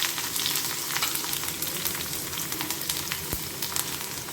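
Garlic dropped into hot oil with cumin seeds, a continuous bright crackling sizzle with fine spitting pops throughout, fairly quiet and close, with no voices.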